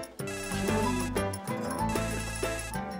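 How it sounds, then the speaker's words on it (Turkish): A telephone rings loudly and steadily, its electronic melodic ringtone repeating in a sustained pattern without any talk, in a Turkish TV comedy scene set at a taxi stand. "telefon çalıyor"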